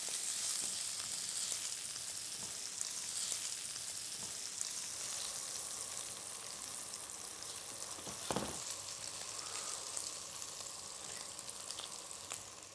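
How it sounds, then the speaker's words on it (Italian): Guanciale browns and renders its fat in a pan for carbonara, giving a steady, close, busy sizzle and crackle with occasional stirring sounds, no talk. "Il nostro guanciale adesso sta rosolando, come vedete sta sudando, quindi rilascia del grasso."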